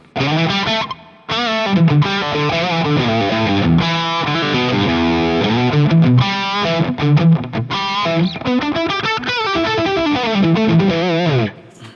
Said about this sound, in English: And here's some reverb